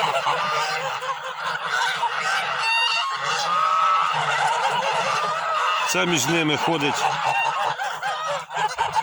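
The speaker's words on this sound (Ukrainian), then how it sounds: "От ще один гусачок. Широкий, непоганий." Kholmogory geese honk loudly and repeatedly at close range, a flock calling over one another with a burst of harsh calls near the end, while someone speaks briefly among them.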